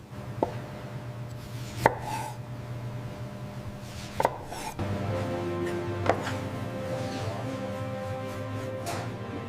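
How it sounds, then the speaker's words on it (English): In a factory, a machine cutting octopus makes sharp chopping strikes about every two seconds over a low, continuous mechanical hum that thickens partway through. "Machines cut the octopus precisely."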